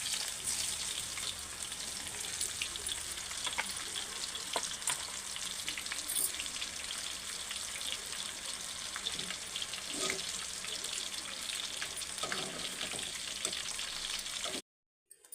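Brinjal pieces deep frying in hot oil for a Brinjal 65 snack, a steady dense crackling sizzle running close and loud throughout with scattered pops, cutting off abruptly near the end.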